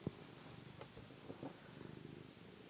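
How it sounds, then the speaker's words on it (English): A pet cat purring close by, a soft continuous rumbling throb with steady rhythmic pulses, quiet and alone with no talk. "Listen to this purring."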